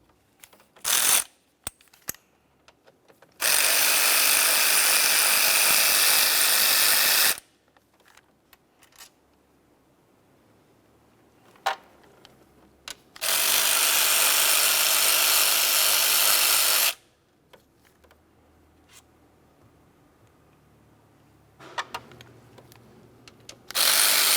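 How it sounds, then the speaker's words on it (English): A hand ratchet loosens the 8mm bolts on the thermostat housing of a 2002-2005 Ford Explorer, with two long, loud runs of rapid clicking near the tool and scattered single clicks and knocks between them. "we're going to remove 3 8mm headed bolts"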